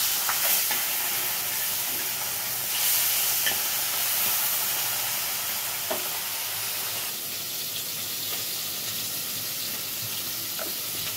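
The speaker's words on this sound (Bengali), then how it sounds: "মাছগুলো উলতে দেবো" Pieces of fish sizzle steadily in hot oil in a pan, with a few faint scrapes and taps as they are flipped over, the frying hiss continuous throughout.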